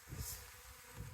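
Honeybees from an opened observation hive during a spring inspection hum softly and steadily for a brief moment, low and continuous, with a faint buzz close by and no talking.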